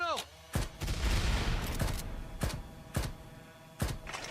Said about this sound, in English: It's a minigun! It's a 20 millimeter!